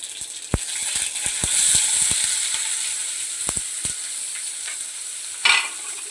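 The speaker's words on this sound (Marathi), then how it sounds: "मोहरी घातली मोहरी तर तडली आणि लगेच मग भरपूर असं जिरं घातलं" Mustard seeds and cumin sizzle steadily in oil on a griddle, with sharp pops and crackles of seeds spluttering, scattered irregularly over a continuous hiss.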